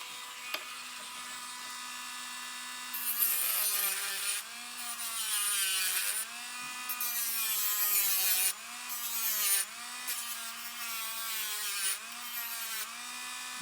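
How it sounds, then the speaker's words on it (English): A Dremel rotary tool whines steadily while a sanding disc grinds burrs off a spoon pendant in repeated bursts, the pitch dipping and rising as it presses against the metal, close and loud. "I'm going to take my Dremel tool"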